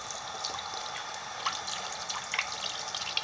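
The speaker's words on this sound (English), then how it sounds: "put it under the faucet, as so. Turn the faucet on." A sink faucet runs over a panty liner, giving a steady close hiss of flowing water with light splashing and trickling, no voices.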